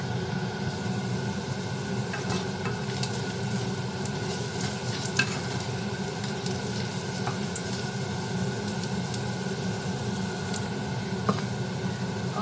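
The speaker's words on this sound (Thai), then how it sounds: "แล้วก็ใส่กระเทียมค่ะผัดให้หอมเลยนะคะ" A steady sizzle of garlic frying in a hot wok, with occasional scrapes and clinks of a spatula stirring, continuous and close with no talking.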